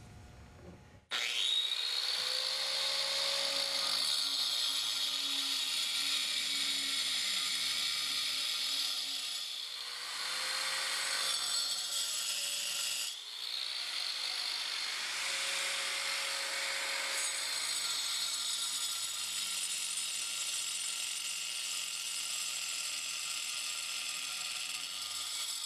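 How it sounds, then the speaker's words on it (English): A 5-inch diamond blade saw cuts into concrete, a loud, steady high-pitched whine that dips briefly twice as the blade bites and restarts, running alone without talk. "going to cut this out with a 5-inch diamond blade here in just a second"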